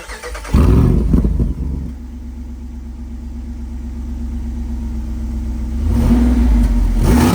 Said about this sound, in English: the one that's even more important is this one, which turns on the performance exhaust.